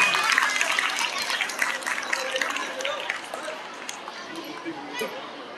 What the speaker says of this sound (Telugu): please give big applause